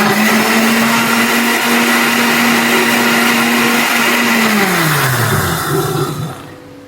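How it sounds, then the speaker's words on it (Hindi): A blender whirs steadily and loudly while mixing a grape juice drink of water, black salt, sugar and lemon juice, its motor holding one pitch before winding down toward the end. "ब्लेंड कर देंगे।"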